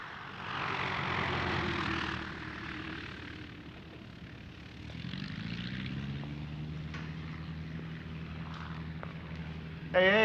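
A biplane's propeller engine drones steadily, rising and settling in pitch as it runs, with a voice speaking over it briefly.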